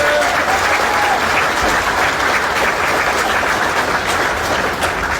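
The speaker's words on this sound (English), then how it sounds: "Let's give them a round of applause, please." A large audience applauds steadily and loudly at a ceremony honoring National Vietnam Veterans Day, dense clapping sustained throughout with no pauses.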